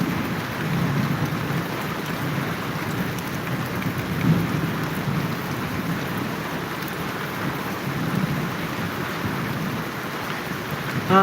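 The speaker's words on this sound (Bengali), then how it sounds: "হঠাৎ করে যে বৃষ্টি হবে এটা কিন্তু কেউ জানে না হঠাৎ বৃষ্টি" A sudden Kalbaishakhi storm in Dhaka brings heavy rain pelting surfaces in a dense, constant hiss, with low rumbling of thunder blended into the steady downpour.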